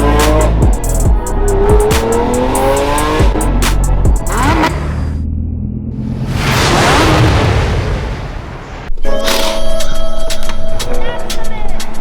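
A Lamborghini Aventador SV accelerating hard on a downtown Vancouver street, with a loud, roaring engine rising through the gears and crackling, and a harsh burst near the end.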